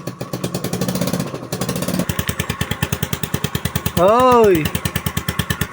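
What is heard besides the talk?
Rusi Gala 125 scooter engine running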